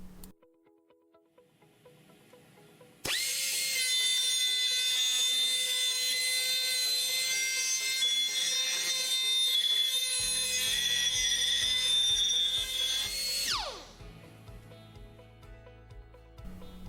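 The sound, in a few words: VSpin spindle deburring a part at 33,000 rpm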